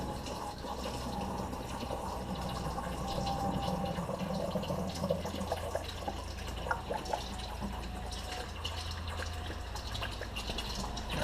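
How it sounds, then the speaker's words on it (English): Water back-flushing in reverse through the cooling system of a 2002 Dodge Dakota engine, a steady close splashing, trickling flow with dripping that runs continuously, no talking. "We're back flushing the engine right now, flushing it in the reverse direction."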